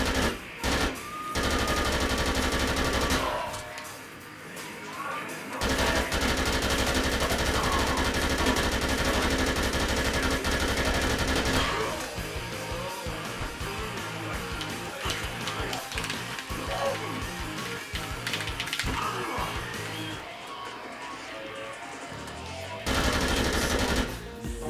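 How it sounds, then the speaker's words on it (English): Sustained automatic gunfire from Dead Rising 2, long loud rattling bursts with a few brief pauses, over game noise and a talking voice. "we're gonna fire a couple of bullets right at him"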